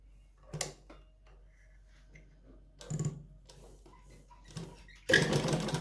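A sewing machine stitching piping onto fabric runs in short, separate bursts with quiet gaps between them, ending in a louder, sustained run of stitching.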